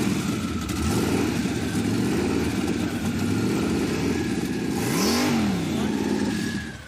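The engine of a muscle truck runs close and loud, steady with a rough mechanical rumble, then climbs and falls in a single rev near the end.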